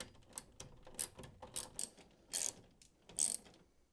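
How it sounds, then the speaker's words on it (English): A screwdriver ratchets as the top panel of a Hoover tumble dryer is screwed back into place, producing faint, close clicking in irregular short bursts, with a few brighter metallic ticks. "and screw it into position."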